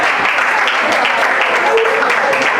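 Loud, dense audience applause for sponsors and partners at the Togo National Debate Championships 2019 final, steady throughout with no lull, with a faint voice partly mixed in.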